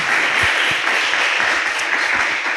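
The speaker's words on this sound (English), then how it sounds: "Warm applause." Warm, dense applause from an audience at a fashion panel discussion, loud and continuous with many hands clapping close together.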